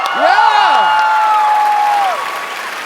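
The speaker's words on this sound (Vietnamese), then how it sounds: "Và một tràng pháo tay nồng nhiệt chúc mừng cho Suzy Kubo của Nhật Bản" A TV game-show studio audience applauds a Japanese contestant, Suzy Kubo, after a tense contest, with clapping carried under loud sweeping musical tones that fade after about two seconds.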